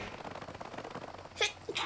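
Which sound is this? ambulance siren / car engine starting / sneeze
sneeze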